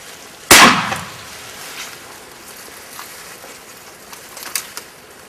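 A single sharp gunshot cracks out near the start during a duck hunt, then fades into quiet outdoor ambience with a few faint distant knocks.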